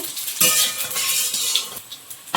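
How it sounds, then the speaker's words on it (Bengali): Whole cumin seeds hitting hot oil in a wok, a bright crackling sizzle that bursts up and then settles into steady frying hiss, with a few light metallic scrapes of a utensil against the pan. "কড়াই বসিয়ে তেল দিয়েছি আর তেলের মধ্যে একটু গোটা জিরে দেব"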